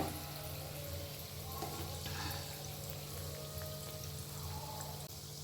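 Bengali sweets frying in oil in a pan give off a soft, steady sizzle with faint crackles throughout, quiet and unbroken.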